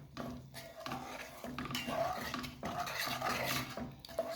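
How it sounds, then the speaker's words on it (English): Food is stirred in a cooking pot while yam and akidi are made, with a spoon scraping and clinking against the metal in close, uneven strokes and no voices. "Stir to combine."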